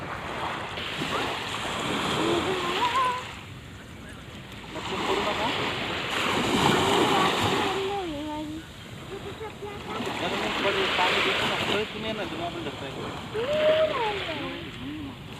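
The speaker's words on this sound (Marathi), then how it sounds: "बघा किती मोठा समुद्र आहे." Sea waves breaking and surging at Siridao rock beach in North Goa, in loud rolling swells with wind buffeting the microphone and people talking over the surf.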